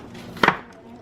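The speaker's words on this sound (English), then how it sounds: "run your knife through it" A knife chops once through ground chuck on a cutting board, a single soft close thud in an otherwise quiet kitchen.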